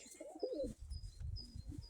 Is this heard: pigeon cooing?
yes